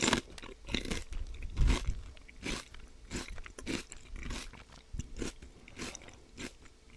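Celery sticks dipped in chili garlic sauce are bitten and chewed up close, giving a steady run of crisp, wet crunches in a quiet room.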